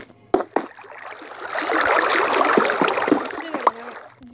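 Water poured from a bucket in Minecraft while building an XP farm, a gurgling, splashing flow swelling and fading over a few seconds, with a few sharp clicks before and after.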